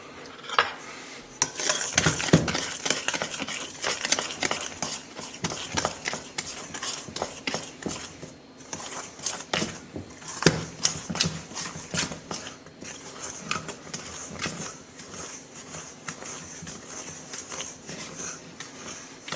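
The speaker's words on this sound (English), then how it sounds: "stir the flour in all at once, mixing it with a spatula until you get a consistency like sand" A spoon stirs flour into tart dough for a Norman apple, almond and Calvados tart. It makes steady, rapid scraping clicks against the bowl, close up and continuous, with no talk.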